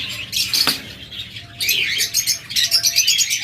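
A pair of caged cockatiels gives bright, shrill chirping calls in repeated rapid bursts, loud and close, with a short gap before the calls pick up again.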